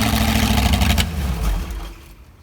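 A 60-year-old GM Corvette V8 engine runs loud and close with a deep, rough rumble that eases off toward the end.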